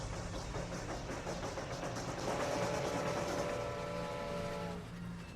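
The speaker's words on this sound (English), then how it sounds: "The engine chugs and begins to slowly pull the train away from the station." Train engine pulling away from a station, a steady rumbling roll of rail noise with a sustained horn-like tone rising midway, loud and continuous throughout.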